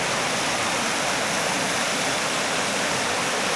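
A river rushes steadily past bent rebar and washed-out concrete on a freezing day, a loud, dense, unbroken roar with no pauses.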